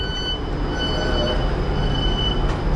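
Train pulling into Birmingham New Street station, a loud, steady rumble of wheels and carriage noise close by throughout, with no talking.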